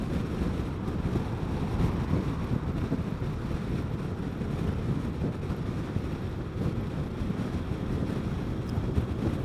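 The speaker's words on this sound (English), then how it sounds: "that wind just beats you pretty good on a motorcycle." Heavy wind buffets and roars over the microphone while riding a Vespa GTS 300 Super Sport scooter on a country road. The noise is a loud, continuous low-frequency rumble with no talking.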